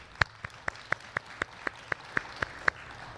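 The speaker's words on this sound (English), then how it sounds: "we'll give you a round of applause" Sparse clapping from a small online conference audience after a presentation: about a dozen single, evenly spaced claps at a steady beat, fairly faint, with no talk over them.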